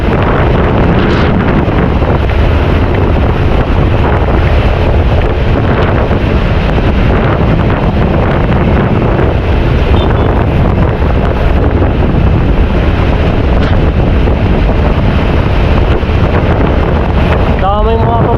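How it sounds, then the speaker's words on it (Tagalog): Strong wind buffets the microphone while riding a motorcycle in Siargao, a loud continuous rushing roar with low rumble throughout and no talk over it. "Gawa nung napakapresko ng simoy ng hangin na may kasamang lamig."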